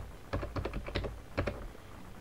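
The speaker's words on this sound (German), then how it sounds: "gebe das Admin-Passwort ein." An admin password entered on a computer keyboard during a Linux software install, heard as a quick, uneven run of soft, close keystrokes in short bursts with pauses and no talking.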